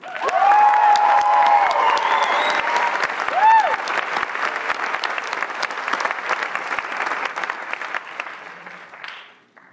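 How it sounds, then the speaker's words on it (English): A large graduation audience bursts into loud, sustained applause for the class of 2023, with a few whoops and cheers rising over the clapping before it fades away at the end. "please join me in a round of applause acknowledging their accomplishment and their continued promise"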